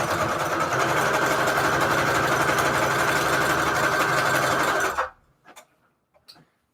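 A sewing machine hums and chatters in a fast, even run as it stitches fabric and lace onto manila tags, then stops abruptly, leaving a few soft clicks and handling taps.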